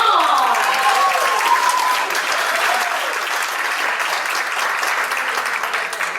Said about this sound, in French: S'il vous plaît, sous vos applaudissements.